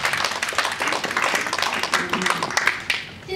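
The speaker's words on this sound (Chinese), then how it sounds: "让我们再次为我们的五位劳苦功高的评论员报以热烈掌声" Warm applause from a Mandarin-speaking speech club audience, many hands clapping densely and steadily at moderate distance, tapering off near the end.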